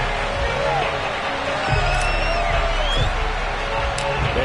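Buffalo Bills home football crowd in the stadium cheering and whooping as the team takes the field against the Miami Dolphins, a steady distant roar under a commentator's talk.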